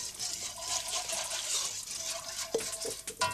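Water poured and stirred into a cooked butter-and-flour roux for Breton tripe, made over a wood fire: steady splashy liquid hiss with soft scraping and a few louder clinks near the end, close and alone.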